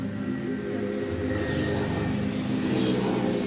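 A Mahindra Bhumiputra tractor's diesel engine runs steadily close by, the rumble swelling as it revs up.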